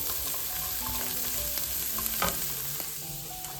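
Garlic and chickpeas sauté in a hot pan for a spinach Parmesan side dish, a steady close sizzle with scattered pops and a spoon scraping as everything is kept moving.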